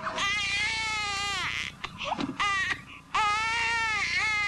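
A recorded infant cries in loud, drawn-out wails, broken by a short gap of whimpers and breaths before the full crying resumes. No other voices are heard.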